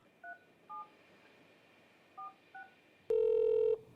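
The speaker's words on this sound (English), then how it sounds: "So Rob McLean and Ryan Ham called Magnuson's wife, Gail, since Don doesn't hear too well" A telephone is dialed with a series of short, quiet touch-tone beeps spaced apart, followed by a longer, louder steady tone near the end.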